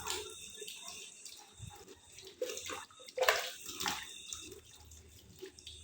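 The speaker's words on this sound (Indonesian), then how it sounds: "Basahi lengan dengan air mengalir," Tap water runs steadily over arms being washed at a sink, a close splashing and trickling flow with brief gurgles and drips.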